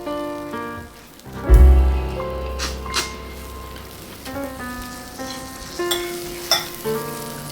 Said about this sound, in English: So you can hear it sizzling because they just came out of the oven.